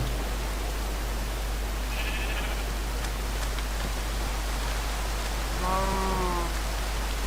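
A Minecraft sheep bleats once near the end, wavering and mid-loud, over a constant low hiss and hum, with a faint high chirp earlier.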